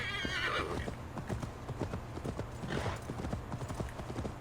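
Horse hooves clip-clop in a steady, close, loud rhythm in Assassin's Creed Valhalla (Wrath of the Druids), with a brief whinny near the start.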